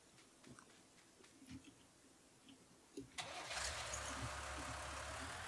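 A tractor engine starting in the Farming Simulator 19 video game: a few quiet clicks, then a brief crank and the engine catches into a steady, even idle that continues to the end.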